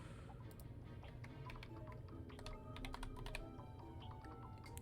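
Rapid, irregular clicks of fingers typing on a computer keyboard during a Ratchet & Clank challenge run stream, close and fairly quiet with no talk.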